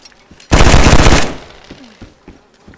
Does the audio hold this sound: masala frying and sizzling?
no